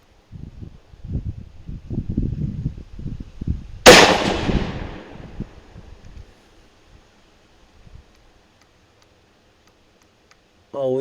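A single loud, sharp rifle crack during a coyote hunt, fired at a target on a scope-test range, rings out with a short echoing tail right after someone speaks nearby, then fades into near silence.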